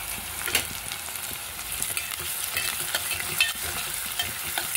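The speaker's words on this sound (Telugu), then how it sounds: "కొంచెం ఫ్రై అయ్యేటప్పుడు కరివేపాకు వేసుకోవాలండి" Curry leaves sizzle in hot oil for an Andhra-style bottle gourd dal, a steady crackling fry with occasional stirring scrapes, close and continuous.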